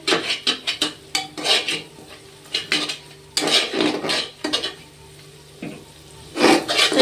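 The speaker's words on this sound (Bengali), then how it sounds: "তো ভালো করে নেড়ে চেড়ে নিতে হবে।" A spoon stirs spice masala for mutton curry in a pan, making repeated loud scraping and clattering strokes against the metal over a light frying sizzle, with no one speaking.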